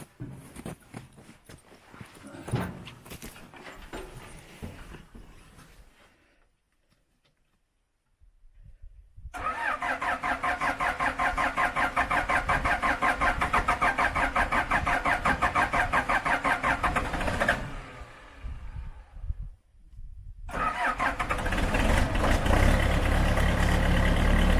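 A backhoe engine that sat unused all winter, battery just reconnected, cranks for a few seconds, pauses, then catches and runs at a loud steady idle. A brief dip follows before it roars up again, close and alone.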